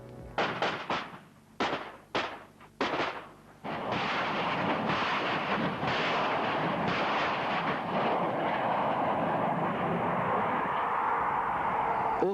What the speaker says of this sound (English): 60 seconds after stopping, the first projectile is blasted on its way